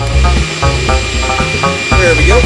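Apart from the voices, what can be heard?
wood lathe starting up and spinning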